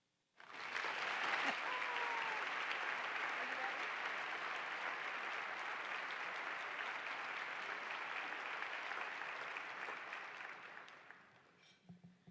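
A breakfast audience breaks into sustained applause as a speaker is welcomed to the stage at a YWCA spring event, steady and full for about ten seconds before tapering off.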